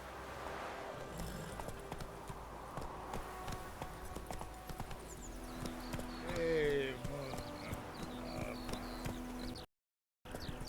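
Roach, Geralt's horse in The Witcher 3, trots with clear rhythmic clip-clop hooves beneath a game soundscape, with a brief whinny-like swell midway and a short dropout near the end.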